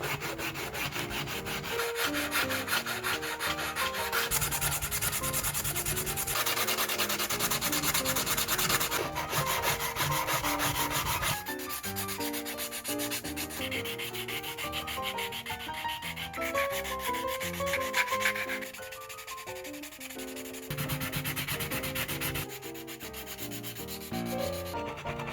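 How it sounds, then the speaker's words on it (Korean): Sandpaper rubs steadily over a hardened 3D pen plastic artwork, a floating coffee cup with a rubber duck, in continuous close scratchy strokes that barely pause for about 25 seconds, with no voices. "다시 돌아온 사포질 ASMR 시간입니다."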